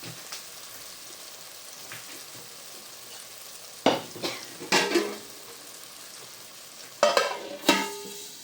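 Pomfret fish masala cooks over a medium gas flame with a soft, steady sizzle, broken by a few louder stirring scrapes in two short bursts.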